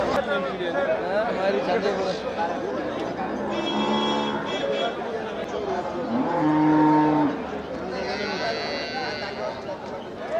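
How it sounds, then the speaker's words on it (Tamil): Cattle at a busy cattle market moo loudly and repeatedly, long tonal calls rising over a background of chattering voices and conversation. "நாட்டு மாடு"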